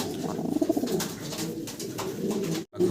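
Andalusian pigeons coo in a series of soft, throaty, rolling calls close by, repeating over a steady background hum.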